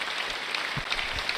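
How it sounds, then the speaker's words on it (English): Continuous applause from a crowd that keeps going without a break, a steady dense patter of clapping held at an even level throughout. "is this the never-ending round of applause?"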